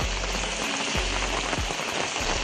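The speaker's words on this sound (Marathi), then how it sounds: "एवढा काल रात्रीपासून पाऊस पडतो" Heavy monsoon rain pours steadily on a Konkan village, a dense, even hiss of drops on surfaces, close and unbroken, with no voices.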